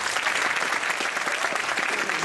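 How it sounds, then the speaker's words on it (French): A theater audience at a film masterclass breaks into sustained applause, a dense, even wash of many clapping hands at steady volume throughout, with no voices rising above it. "je vous demande de l'applaudir évidemment."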